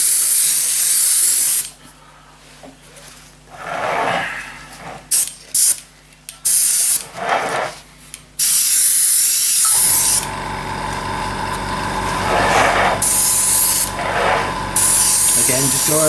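Grey grime weathering paint hisses from an airbrush onto a 7mm Heljan VAA model wagon in short bursts with pauses between, then settles into a longer continuous spray alongside a faint mechanical whine.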